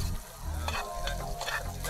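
Shallots fry in hot oil for a beefroast-style Kerala dish, giving a steady close sizzle with a few scraping stir strokes, with no talking.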